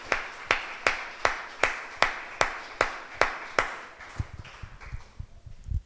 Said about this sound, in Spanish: den un aplauso juntos